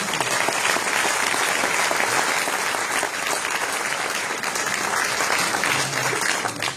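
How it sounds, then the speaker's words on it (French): A crowd claps steadily for several seconds at a municipal election campaign meeting in Dunkirk, a dense, sustained applause that tapers slightly toward the end. "je vous remercie de bien vouloir les applaudir"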